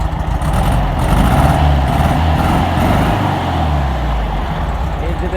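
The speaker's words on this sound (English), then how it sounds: "Got the engine running now." 1971 VW Beetle engine running rough on three cylinders, a loud, close, steady idle with an uneven, lumpy pulse.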